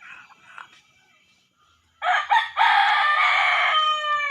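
A rooster being treated for a snoring breathing illness crows loudly and close up. The long, bright call rises after a few soft clucks and some quiet.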